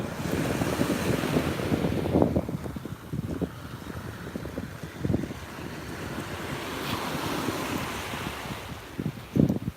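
Wind and surf on a beach at sunset on Sanibel, with steady broadband wind noise buffeting the microphone over continuous wave wash, occasional louder gusts and surges throughout.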